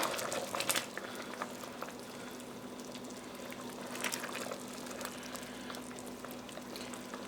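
A fenugreek mixture with thin second-extract coconut milk simmers and thickens in a pan while being cooked down into a post-delivery uluva lehyam; soft, continuous bubbling and faint popping over a low steady hum.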